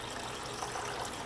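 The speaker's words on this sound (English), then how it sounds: "We just wanna get that nice web of water." Water flows across a gold dust concentrating table in a thin, even sheet, making a soft, steady trickling wash at low volume, with no talking.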